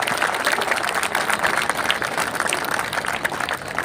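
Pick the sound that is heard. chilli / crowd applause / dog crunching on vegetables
crowd applause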